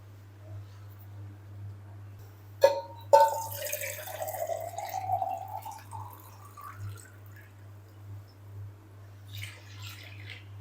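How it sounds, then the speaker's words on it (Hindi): Two glasses of water pour into a pot of mixed dal after a couple of sharp clanks, a rising gurgling fill over a steady low electrical hum. "हम ऐड करेंगे 2 गिलास इसके अंदर पानी ऐड करेंगे।"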